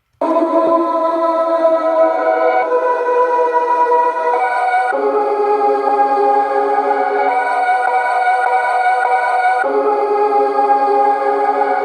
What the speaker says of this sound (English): In the drop I used other vocal chops and they sound like this.